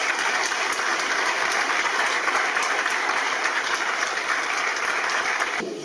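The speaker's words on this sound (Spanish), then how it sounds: "Creo que se merece un aplauso." Sustained audience applause at a tribute ceremony with diploma presentations in Villamediana de Iregua, a dense, steady wash of many hands clapping close and loud for several seconds, tapering slightly at the end.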